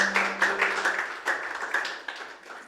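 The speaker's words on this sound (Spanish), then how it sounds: "Vamos a darle un fuerte aplauso al Señor" A church congregation claps in a strong round of applause for the Lord, a brisk burst of hand claps that gradually tapers over a few seconds, with a steady tone audible at the start.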